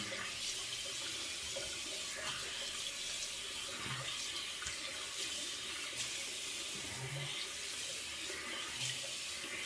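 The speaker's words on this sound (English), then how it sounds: "Hot water." Hot water running steadily from a bathroom tap into a sink for rinsing after a safety-razor shave, a continuous close hiss with small splashes and no voices.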